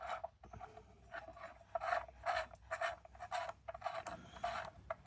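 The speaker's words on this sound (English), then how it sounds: "get your nut and just tighten that down" A nut being screwed down by hand onto a flat lap disc on a 3D printed flat lap machine, a series of close, raspy rubbing and scraping strokes in an uneven rhythm, with no talking.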